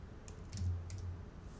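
Computer mouse clicking a download button, a couple of faint soft clicks close by over a quiet room hum.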